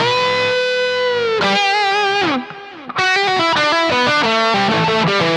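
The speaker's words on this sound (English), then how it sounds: "Let's do a tape echo." Electric guitar run through an analog tape echo delay, loud sustained notes and chord phrases with trailing repeats, a brief dip near the middle before playing resumes.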